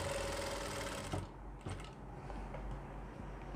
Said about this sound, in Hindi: यहाँ पे लगाएंगे हम सिलाई एक पैर की सिलाई लगाएंगे हम